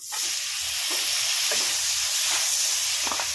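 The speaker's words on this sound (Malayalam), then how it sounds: "ഇതിനകത്തേക്ക് ഞാൻ ഒരു പകുതി വാട്ടി വെച്ച സവാള ഇടുവാണേ." Half-wilted onion slices go into a hot pan and set off a loud, steady sizzle with light stirring clicks, close and continuous with no talking, while a veg stew is being made.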